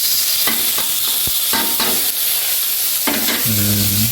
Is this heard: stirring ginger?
yes